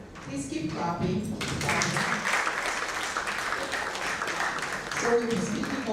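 Audience applause for a speaker at a United Nations at 80 and UNA-Nigeria Day event, sustained and fairly dense throughout, with voices and an announcer's speech mixed over the clapping.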